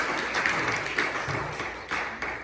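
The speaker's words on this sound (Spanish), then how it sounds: "Denle un aplauso al Señor, hermano" In a church service, a congregation's applause to the Lord forms a dense, steady patter of many hands clapping, moderately loud with a few sharper claps standing out.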